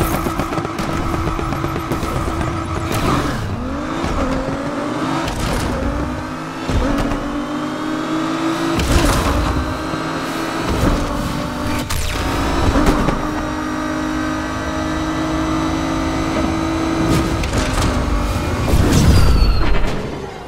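Racing car engines roar in a drag race in the Need for Speed Unbound video game on PS5, with loud sustained revving, gear-shift rises and falls, and occasional booming thumps throughout.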